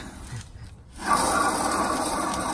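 A worn, rusty wheel hub bearing on a Chevy Express van grinding as it turns, a harsh continuous rasping rub that starts after a quiet moment and runs steadily, close and loud.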